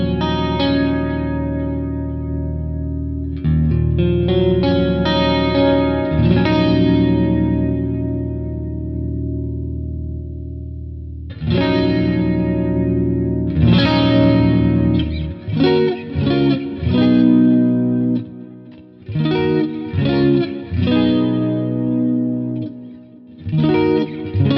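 Clean electric guitar tone run through a Quad Cortex preset, with chorus and echo shimmer on the notes: sustained chords and picked phrases in bursts separated by brief gaps, loud and alone with no voice.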